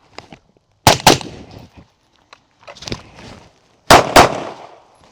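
Pistol shots fired during a low-ready shooting drill: three pairs of sharp, loud, close reports with short echoes trailing each pair, separated by quiet pauses and faint shuffling.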